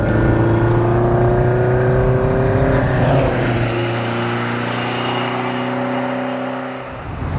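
An engine-swapped MK2 Golf GTI hatchback revs hard in the middle of its range, a loud, steady droning engine note that climbs in pitch, then eases off and fades lower toward the end.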